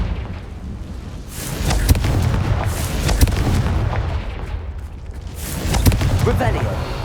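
Booming fire-spell explosions from Hogwarts Legacy, a series of loud blasts and crackling bursts over a dense, rumbling battle din, close and heavy, with no clear speech.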